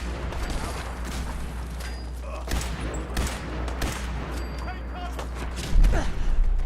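Scattered gunshots from a Fallout 4 firefight crack at intervals over a constant low hum and game background sound, with a louder burst near the end.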